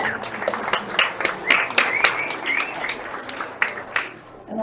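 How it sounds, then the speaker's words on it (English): Conference audience applauding, a dense burst of clapping that swells and then gradually thins and fades, with a few voices mixed in. "let's give Patricia Forbes a big round of applause"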